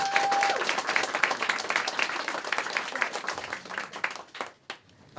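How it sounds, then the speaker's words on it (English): A round of applause from a crowd at a fundraising event finale, with many hands clapping in a dense burst that gradually thins out and stops, leaving a few last claps. "let's have a round of applause for Jamie."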